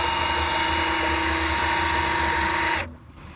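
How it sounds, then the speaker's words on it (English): A power drill motor spins a 1937 Pontiac engine's oil pump, giving a steady, loud whining drone with a buzzing hum that runs unbroken for almost three seconds, then cuts off abruptly into near silence. "I've got a drill motor hooked up to our oil pump."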